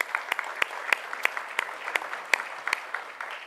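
Applause from the audience at a city's State of the City address after sponsors are named: steady, moderately distant clapping with scattered sharper individual claps, continuous for a few seconds with no talk over it.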